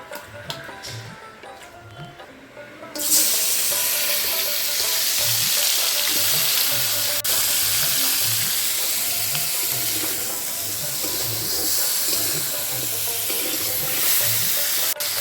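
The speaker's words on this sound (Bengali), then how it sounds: "মাছটা ভাজা হয়ে গেছে" Large dried fish coated with salt and turmeric goes into hot mustard oil. A quieter start gives way to a loud, steady sizzle that crackles on without pause, with no voices.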